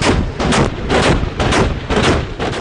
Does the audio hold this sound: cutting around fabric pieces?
no